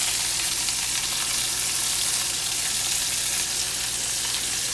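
Food sizzles and fries steadily in a hot pan while cooking pasta alla Genovese, a dense, continuous crackling hiss that stays close and loud throughout with no talking.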